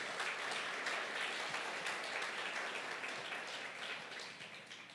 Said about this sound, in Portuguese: Você pode aplaudir ao Senhor por isso.